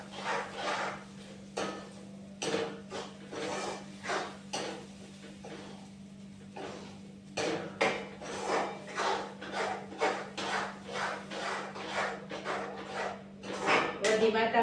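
A utensil stirs Punjabi vegetable gravy with tomatoes in a pan, making repeated scraping, rubbing strokes in uneven bursts over a low steady hum.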